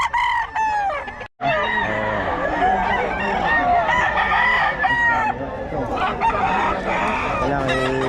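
Roosters at a cockfighting derby crow loudly and repeatedly, overlapping with clucking fowl nearby, with a brief gap early on and voices faintly underneath.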